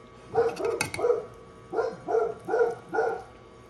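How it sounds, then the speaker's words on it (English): A dog barks in quick bursts: a pair of barks, a brief pause, then four evenly spaced barks, fairly close and loud. "So the dogs are going crazy."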